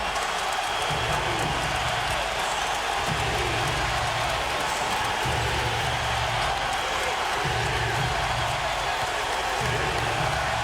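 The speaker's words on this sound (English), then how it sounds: "And the crowd re-energized here in Dallas." Basketball arena crowd in Dallas roars and cheers steadily during a Mavericks home game, a dense, continuous wall of noise with a commentator talking over it.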